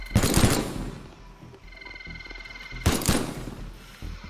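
Enemies fire guns in a video game, two loud bursts of gunfire about two and a half seconds apart over a low droning game soundtrack.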